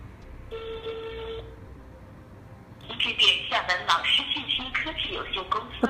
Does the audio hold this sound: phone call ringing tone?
yes